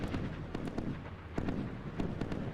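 Sharp pops and whooshing bursts from surface-to-air missiles launching off warships in a naval battle in Sea Power, several irregular launches over a steady background rumble.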